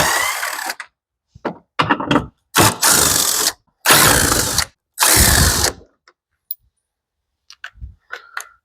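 A hand ratchet backs out 10mm bolts holding the grille on a 2014–2018 GMC Sierra or Silverado truck, in several loud, close bursts of rapid clicking separated by pauses, with a few lighter taps and handling noises after.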